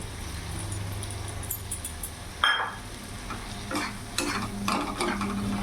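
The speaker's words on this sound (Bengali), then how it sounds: "এরই মধ্যে এখন ভেজে রাখা আলুগুলো আমি দিয়ে দেবো।" Fried potatoes tipped into a soya egg curry masala sizzling in oil, giving a steady frying hiss with stirring scrapes and a brief clatter as they go in, close and without talk.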